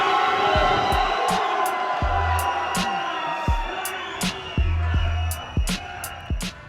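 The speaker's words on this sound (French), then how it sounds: "Nous sommes obligés de partir sous les huées." Protesters at a street demonstration in Ukraine jeer and shout in a loud crowd roar, with sharp cries and whoops rising above the din and thuds of movement nearby.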